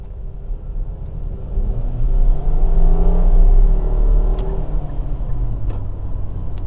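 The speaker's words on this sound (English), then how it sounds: "Go for a quick acceleration run, turn into sport" A Nissan Rogue SV Premium with a CVT accelerates in sport mode through city streets, its engine rumble swelling steadily to a peak and then easing back, heard from inside the cabin with no talking.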